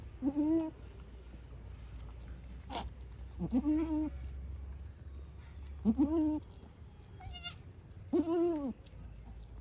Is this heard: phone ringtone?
no